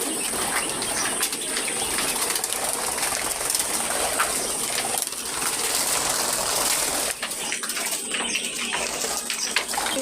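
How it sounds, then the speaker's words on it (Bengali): Pet birds coo close by against a constant watery hiss, soft repeated calls with occasional wing flutters, steady through the whole stretch with no talking. "এটা মায়া পাখি।"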